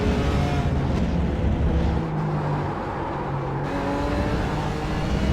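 A BMW race car engine in iRacing drones steadily close by, holding a sustained tonal roar with slight pitch shifts as the car runs through the final turns of a lap.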